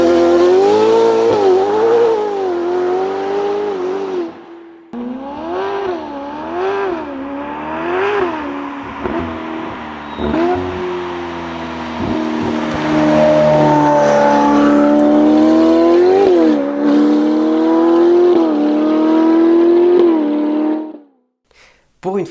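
Novitec-tuned Ferrari F8 Tributo engine revving loudly and close, its pitch swooping up and down in repeated throttle blips, then holding a long high-pitched wail before cutting off.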